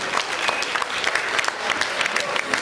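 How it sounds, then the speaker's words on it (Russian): Audience applause at the Miss Gantsevichi 2008 beauty pageant after a contestant's introduction, a dense steady clapping from a crowd filling the whole stretch, with faint voices mixed in. "Ей аплодисменты."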